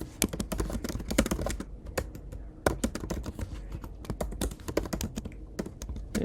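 Fast, continuous typing on a computer keyboard while Java code is written, with dense clusters of close, crisp key clicks and only brief pauses between bursts.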